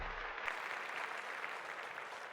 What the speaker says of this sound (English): Round of applause for Megha.